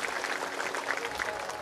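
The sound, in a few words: audience clapping at a Bhagavat katha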